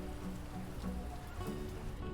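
Quiet, continuous rain in the survival game Mr. Prepper, an even wash of patter on surfaces with no voices, low and steady for the whole stretch.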